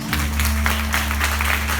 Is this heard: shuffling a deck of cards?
no